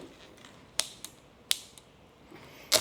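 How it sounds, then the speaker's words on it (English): A quick connect fitting is fitted onto a hose outlet of a spotless car wash system: a few sharp metallic clicks and snaps, close and fairly quiet, scattered over a low background. "Let's basically put a quick connect on here."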